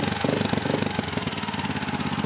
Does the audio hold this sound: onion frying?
no